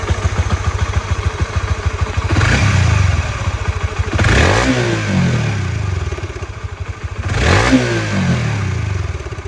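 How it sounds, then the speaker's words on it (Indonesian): A Honda CB150X motorcycle engine with a worn factory cam chain tensioner idles close by with a rapid ticking clatter, rising in three short revs and settling back each time, with no talk. "Oke, dengarkan di mesinnya juga. Seperti ada bunyi itu ya, bunyi letak-letak ya."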